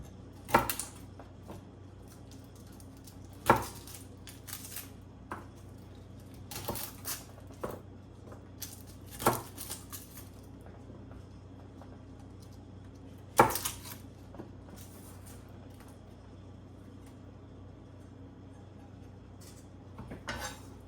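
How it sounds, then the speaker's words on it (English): A knife chopping the bottoms off vegetables for guacamole on a cutting board, sharp isolated thunks spaced irregularly over a quiet room hum, some strokes louder and crisper than others, no talking. "just chop the bottoms off these"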